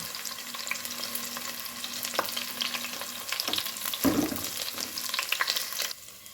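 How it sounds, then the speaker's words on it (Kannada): Garlic sizzles in hot coconut oil and ghee in a clay pot, a soft continuous frying hiss with occasional stirring and scraping clatter, nearby and fairly quiet, with no talking. "ಈಗ ಮೊದಲಿಗೆ ನಾನು ಎಣ್ಣೆ ಬಿಸಿಯಾಗಿದೆ ಬೆಳ್ಳುಳ್ಳಿಯನ್ನು ಹಾಕೊಳ್ತೇನೆ"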